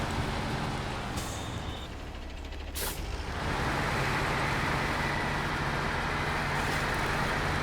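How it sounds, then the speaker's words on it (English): A heavy truck in SnowRunner releases its parking brake with a sharp pneumatic hiss over a steady engine rumble, followed by continued loud engine drone. "Let's take off the parking brake."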